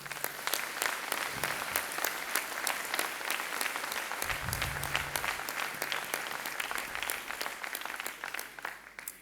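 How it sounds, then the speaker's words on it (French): Applause from the audience at a French departmental election rally, with many individual claps standing out sharply in a steady, lively ovation that sounds somewhat distant and lasts for several seconds. "Je vous demande de l'applaudir, Vincent."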